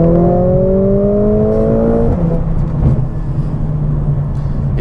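A Mercedes-AMG CLA 45S shooting brake launches in drag race mode, its engine note rising steadily in pitch, then a gear change drops it before it keeps pulling hard, loud and close from inside.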